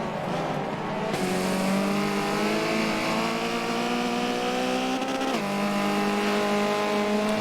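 A string of race cars in the Forza video game at Suzuka's full circuit roars close and loud without pause, engine pitch climbing through upshifts, with a sharp gear change near the middle before the note rises again.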